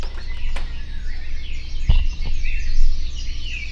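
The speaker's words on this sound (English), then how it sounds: "I do want you to hear how rambunctious the birds are being this morning." Lively birds chirping and whistling outdoors, overlapping calls over a steady low background rumble, with a few sharp clicks.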